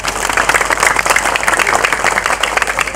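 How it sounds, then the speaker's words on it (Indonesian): Loud, close applause from a crowd at a religious lecture event, brisk dense clapping that continues without a break for the whole span. "Tepuk tangan untuk BTV."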